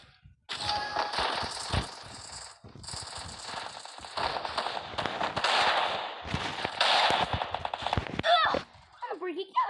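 Rapid bursts of gunfire from a Desert Eagle pistol and a 12-gauge shotgun in a shooter video game crackle loudly in clustered volleys, with a brief voice near the end.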